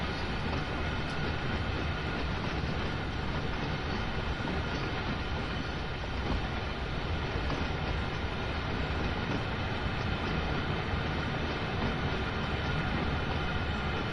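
A freight train in Train Sim World 2 rolls past on a mountain line, a steady loud rumble of wagons sustained throughout with no talk over it.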